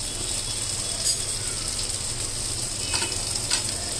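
A horse gram dosa sizzles with ghee on a hot pan, giving a steady close crackling fry with faint scraping and clinks now and then, and no talking over it.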